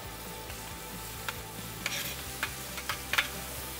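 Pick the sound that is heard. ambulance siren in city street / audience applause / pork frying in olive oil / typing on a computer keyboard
pork frying in olive oil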